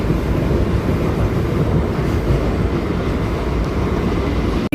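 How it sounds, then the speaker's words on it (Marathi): A Mumbai fast local train rushes past in a steady, loud roar of wheels and wind, filling the whole stretch without a break, with no voices heard. "आणि अजून एक फास्ट लोकल."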